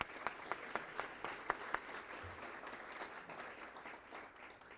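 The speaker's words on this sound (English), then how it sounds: "Join me in giving these folks a round of applause as well" Audience applause for university deans at a young alumni awards ceremony, a steady wash of many hands clapping with a few sharper individual claps standing out near the start, sustained and moderately loud throughout.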